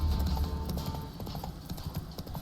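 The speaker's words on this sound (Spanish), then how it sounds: "No espanten a mi caballo" Horse hooves clip-clop in The Witcher 3, a quick, steady trotting rhythm heard up close and fairly loud, with no talking over it.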